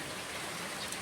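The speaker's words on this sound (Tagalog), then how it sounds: "Yung katamtaman lang po yung ulan." Steady moderate rain patters evenly on surfaces, a dense continuous hiss with no voices.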